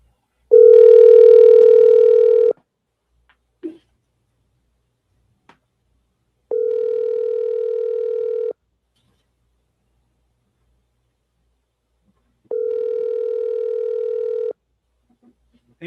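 A telephone line rings out during a call placed from an FM radio talk show: three long, steady ringback tones, each about two seconds, separated by even silent gaps, loud and clear.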